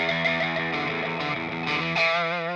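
A heavily distorted electric guitar plays a short phrase, its gritty, buzzing tone sustained with a shimmering effect and a final ringing chord.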